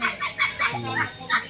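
Native chickens cluck and gobble in a quick, loud series of rough, throaty calls close by, several bursts in rapid succession with no talk over them.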